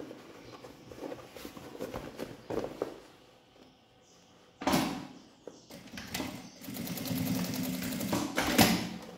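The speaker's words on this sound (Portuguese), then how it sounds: "Vou passar uma costura reta aqui. Dos dois lados, tá?" A sewing machine runs a straight seam on a fabric bag in short bursts of rapid stitching, with quieter pauses and handling sounds between them.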